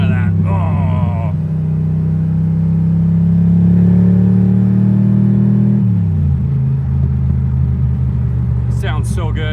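A deep, steady 427 V8 engine rumble from a Shelby Daytona Coupe idles close by, rising slightly then settling lower, with brief talk at the start and end.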